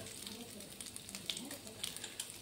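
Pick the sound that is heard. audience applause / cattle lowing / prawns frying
prawns frying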